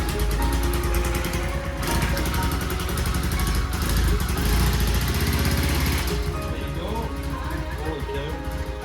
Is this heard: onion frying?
no